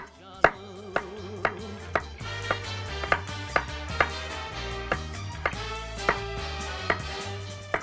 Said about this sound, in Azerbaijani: Bu şəkildə halqa-halqa doğrayırıq bunları.